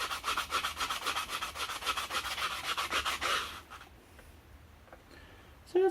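Fine-grit sandpaper rubs back and forth in quick, steady strokes on a scratch-built flashlight part for nearly four seconds, then stops, leaving quiet room tone with a few faint clicks.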